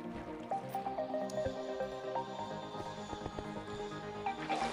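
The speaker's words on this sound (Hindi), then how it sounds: "अब मैं इस वाले कोने में पानी डाल देता हूँ।" Water poured into a corner block while building a skeleton and spider XP farm in Minecraft, a soft wet squishing and dripping trickle running steadily through a busy game soundscape with small clicks and taps.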